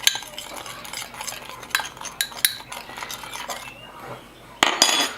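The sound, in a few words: stirring paprika and pepper spice mix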